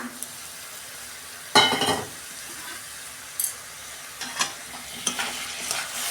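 Cabbage and lentils are stirred and sautéed in a pan, with a quiet sizzle broken by several scraping stirs, one loud burst of frying early on, then lighter clinks and scrapes.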